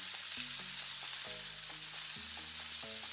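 Urad dal sizzling in hot oil with curry leaves while tempering a white coconut chutney, a steady close hiss of frying, with small scraping stirs at intervals and no talking.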